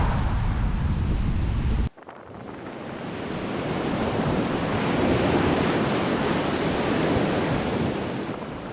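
Large ocean waves break on a Dominican shore at night, a steady, loud broadband roar of surf that follows a sharp cut near two seconds and then swells and holds with wind buffeting the microphone.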